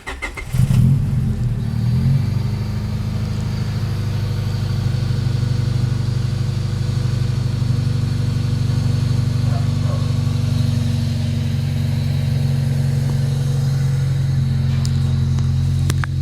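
A Honda Civic EG hatchback engine rumbles deeply through its exhaust with a 24-inch resonator, starting with a brief rev and then idling steadily and close for a long stretch.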